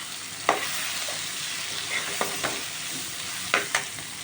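Food frying in a pan while being stirred, a steady close sizzle broken by several scraping utensil strokes against the pan, with no voices.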